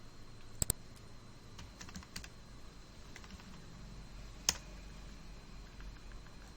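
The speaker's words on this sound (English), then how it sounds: "now you type any number here" Quiet clicking of keys on a computer keyboard as a number is typed into an Excel spreadsheet, a few sharp louder taps among faint scattered keystrokes.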